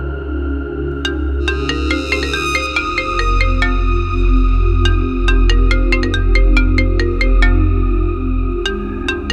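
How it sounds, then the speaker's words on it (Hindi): A mobile phone ringtone plays a bright electronic melody of repeating chiming notes, loud and close, over a low background hum. "अरे तेरी गर्लफ्रेंड का ही फोन आ रहा है"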